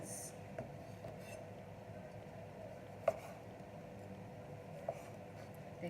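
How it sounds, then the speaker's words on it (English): Knife slicing ripe tomatoes into wedges on a cutting board in a home kitchen, a few faint scattered cuts with a couple of sharper taps against a quiet background. "And I'll just slice these into"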